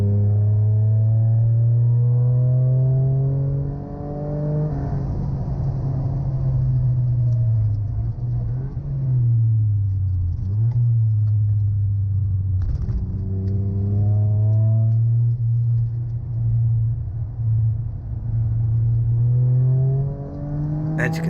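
A Toyota GR Yaris driven fast on the Anglesey race track on a drying surface, its engine droning loudly with repeated rising revs and gear-change dips, plus a brief voice over the engine noise.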